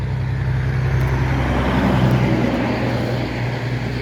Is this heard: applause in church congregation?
no